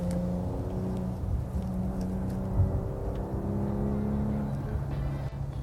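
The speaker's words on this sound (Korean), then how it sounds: "스포츠 모드가 됐을 때 이 차의 엔진이 낼 수 있는 진짜 소리" Maserati Levante Modena S engine in sport mode, a steady low droning hum from inside the SUV while driving, continuous and moderately loud with no distinct revs.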